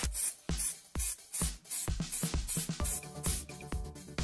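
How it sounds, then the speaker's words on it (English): Citadel Chaos Black spray paint can undercoating a miniature, with a series of loud, close hissing bursts: short sprays roughly every half second, then longer overlapping blasts. "let's undercoat the mini using the Citadel Chaos Black spray"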